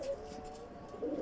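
Golden pigeons coo softly on a rooftop in a short, low murmur that rises again near the end, faint and fairly close, with no talking.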